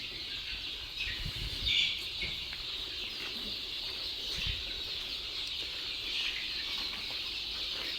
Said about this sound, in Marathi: यामध्ये आपण प्युअर गावरान पक्षी सांभाळतो